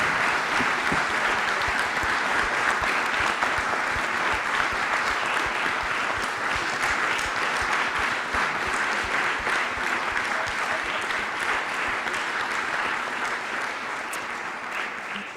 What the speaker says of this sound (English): can we show our gratitude one more time with another round of applause?